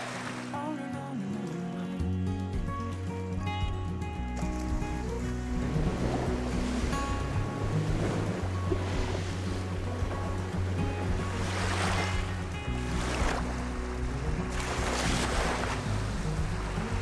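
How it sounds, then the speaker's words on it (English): Waves wash onto a Lake Huron shore on a windy morning, a steady rushing surf with periodic louder breaking swells and wind buffeting the microphone, continuous with no voices. "salty breeze and the wind."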